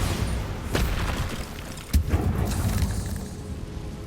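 A Bombarda blasting spell in Hogwarts Legacy bursts with a deep boom, followed by a second sharp blast a moment later, both rumbling out into a low lingering tail.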